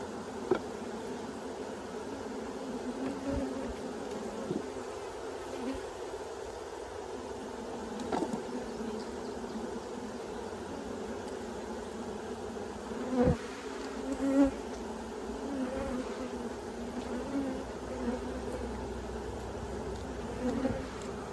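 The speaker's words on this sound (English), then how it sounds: "There's a lot of bees on this outside." A dense, steady drone of many honey bees buzzing close by on the outside of a hive during inspection, continuous throughout with a few louder passes.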